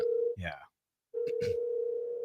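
A steady telephone dial tone hums on a line while calling a friend, broken by a short spoken word and a pause before the tone resumes, with a couple of faint clicks near the end.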